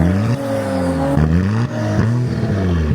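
A drift car's engine holds a loud, strained rev at launch, the pitch dipping and climbing again in repeated surges.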